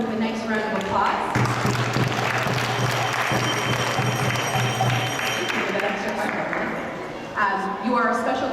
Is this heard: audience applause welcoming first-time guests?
yes